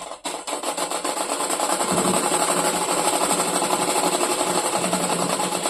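A sewing machine stitches a skirt in a fast, continuous rattling buzz that runs close and loud without pause for several seconds.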